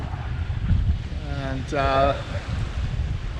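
A boat running through choppy water over a shoaling bottom, with steady wind noise buffeting the microphone and water rushing beneath the hull; someone speaks briefly over it.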